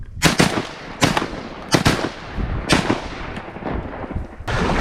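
Repeated shotgun blasts during a duck hunt outdoors, several sharp loud reports spaced about a second apart, each with a short echoing tail, with no talking.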